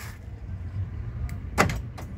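Central locking on a black 2010 Isuzu Panther LS Turbo actuates by remote key, giving a quick pair of faint mechanical clunks over a low background hum.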